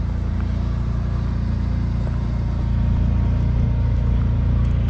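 A 4kW Onan generator drones in a steady, loud low rumble, running on board a 1998 Safari Trek Pathmaker 2830 motorhome, with no other sounds over it.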